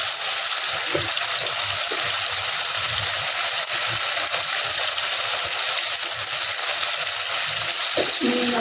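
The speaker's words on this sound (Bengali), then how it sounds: "এবার আলুগুলোকে ভালো করে ভেজে নেব" Potatoes with salt and turmeric fry in hot oil, giving a steady, close sizzle with a few soft stirring knocks and no talk.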